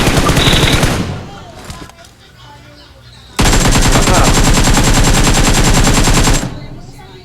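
Video game gunfire rattles in fast automatic bursts: one loud volley at the start, a short quieter lull, then a long sustained stream of rapid shots that cuts off abruptly.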